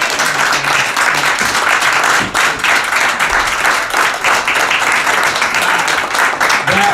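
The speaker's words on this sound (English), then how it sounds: "Marianne Williamson, give her a round of applause." A crowd applauds steadily and loudly throughout, dense clapping with a few cheers mixed in.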